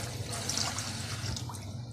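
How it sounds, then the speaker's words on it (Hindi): Milk poured into a pan, a soft continuous liquid stream lasting the whole short moment, fairly quiet and close with no talk. "एक पैन लेंगे और उसमें दूध डालेंगे।"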